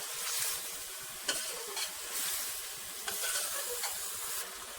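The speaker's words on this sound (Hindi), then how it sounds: "4 से 5 मिनट तक हम इसको भी अच्छी तरह से भून लेंगे।" Beef frying in a karahi with black cardamom and cinnamon, a steady sizzling hiss throughout with a few sharp scraping stirs of a spoon against the pan, close and moderately loud with no talking.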